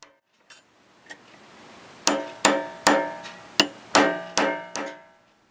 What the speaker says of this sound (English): striking with a hammer to expand the groove